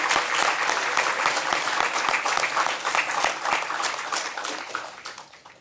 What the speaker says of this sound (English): So we'll just do a group round of applause once again for those of